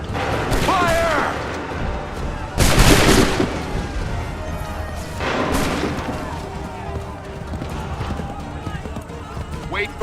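Musket volleys crack out in a battle scene from the video game Assassin's Creed III, with booming bursts at intervals amid clattering hooves and shouted commands.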